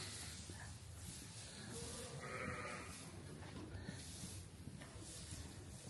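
Sheep in farm pens set up for lambing season let out a faint bleat or two over a steady hiss of quiet background.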